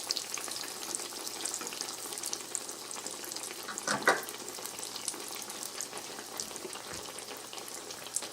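Breaded eggplant slices frying in a pan for eggplant parmesan give a steady, close crackling sizzle, with a brief louder burst partway through and no one talking.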